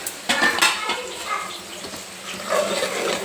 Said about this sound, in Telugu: ఇప్పుడు నీళ్ళు వేసుకుందాం. వేడి నీళ్ళు వేసుకుంటున్నాను నేను.